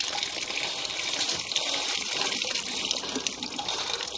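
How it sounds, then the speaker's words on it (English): Water draining down a sewer pipe inlet at a cleanout, a steady, loud rushing gush that fills the whole stretch without letup or voices. "We have an inlet right there, and that's draining down."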